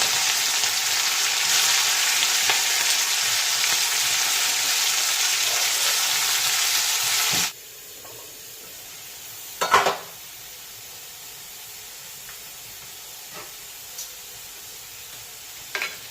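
Loud hissing sizzle of bean leaves stir-frying in a pan, cutting off abruptly, followed by quiet with a few faint clinks.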